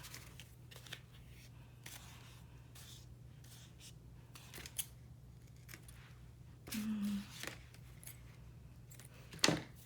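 Scissors trim the edges of a small vintage matchbook-style paper notepad, giving a few faint, close snips over a quiet background, with one brief louder snip near the end.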